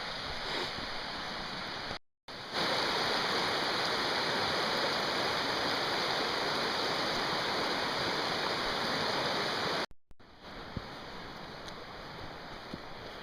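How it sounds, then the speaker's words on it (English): River flowing with a steady, broad rushing wash, loud and continuous, cut by two brief dropouts and a quieter stretch toward the end, with no talk. "I could hear the river, so I just kept heading towards the river"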